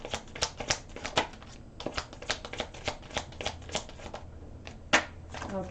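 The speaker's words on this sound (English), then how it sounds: "So let's take out the rest of these cards." Tarot cards are taken out and handled, a quiet run of quick papery flicks and riffles in a close, soft rhythm.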